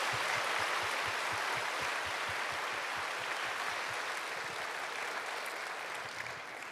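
A church congregation applauding together: continuous, even clapping from a large crowd, loud and sustained throughout, easing slightly toward the end.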